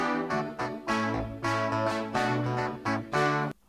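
Prophet synthesizer playing a dense chordal pattern with steady low bass notes, loud and rhythmic, with chords re-struck about every half second and a sudden stop near the end; no voices.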